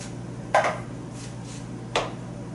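A flat wooden spoon knocks against the side of a cooking pot while crushing spaghetti sauce ingredients, two distinct quiet clunks about a second and a half apart over low kitchen background noise.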